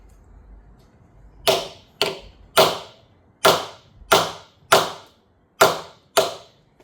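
A series of eight sharp metallic hammer blows land on an impact-style JIS screwdriver working stuck screws on an abandoned 1980s Yamaha superbike, evenly spaced strikes with quick ringing decay, loud and close.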